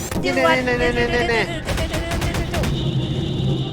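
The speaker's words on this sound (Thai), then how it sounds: "เดี๋ยวฉันจะลองยิงเข้าไปนะ" Gunfire and explosions in a horror maze video game ring out in a rapid, dense burst amid tonal game sound effects, loud and close.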